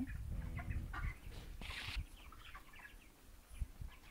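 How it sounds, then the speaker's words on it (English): Broiler chickens on a poultry farm cluck and call in short, faint bursts with one louder squawk, over low rumbling background noise. "broiler chickens"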